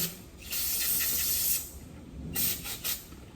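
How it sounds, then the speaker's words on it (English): Short bursts of pressurized spray hiss against the screen of a Graco GX-7 sprayer during cleanup after concrete lifting, two main sprays with brief gaps and small follow-up spurts, close and fairly soft. "I like to spray the screen off a little while just to make sure there's no ISO that I just can't see."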